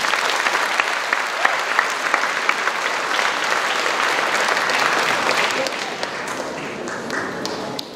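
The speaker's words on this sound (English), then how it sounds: "please give a round of applause after each performance for the hard work and" Steady audience applause at a charity concert, dense and continuous throughout, easing slightly toward the end.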